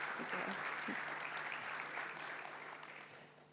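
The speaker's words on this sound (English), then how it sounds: "Huge round of applause for Anne, everyone." Conference audience at an Arabic publishing event applauding a speaker, a dense steady round of clapping from a crowd in a hall, slowly fading toward the end.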